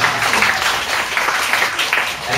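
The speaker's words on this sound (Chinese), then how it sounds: "再掌声鼓一下啊" An audience at a film lecture event in Taichung applauds, a steady dense wash of clapping from many hands that continues evenly without pause.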